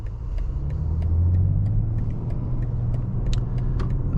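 Interior drone of a 2023 BMW X6 40i moving in traffic and merging lanes: steady low engine and road rumble throughout, with faint small rattles above it and no talking.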